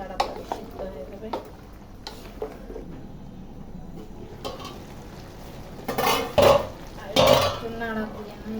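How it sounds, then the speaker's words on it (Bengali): Shrimp and cucumber curry is stirred in a pot: soft scraping and light clinks of a spoon against metal, with a couple of louder clattering strokes near the end, over a quiet frying hiss and some talking. "একটু নাড়া দিয়ে দেই। নাড়াচাড়া দিয়ে দিবি, তাড়াতাড়ি সিদ্ধ হয়ে যাবে।"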